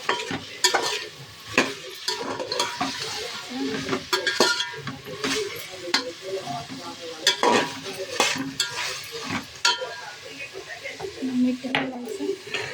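Chutney masala sizzles in a pan while a spoon stirs it, scraping and clinking against the metal in repeated strokes, close up, with someone talking now and then over the frying.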